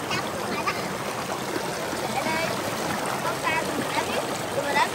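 A forest stream flows steadily on a picnic outing, a continuous broadband rush and trickle of water that holds level throughout, with voices talking over it.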